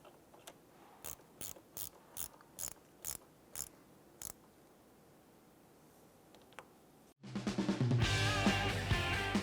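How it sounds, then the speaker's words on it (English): Ratchet snugging down a nut on a ground terminal while replacing an exhaust variable valve timing solenoid on a 2012-2017 Toyota Camry, a series of about eight sharp, evenly spaced clicks, close and clear, followed by a quiet stretch. "Take your ground terminal, line this up, and let's go ahead and snug down that nut."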